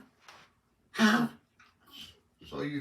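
A person coughs and clears their throat close by, a few short rough bursts separated by brief pauses.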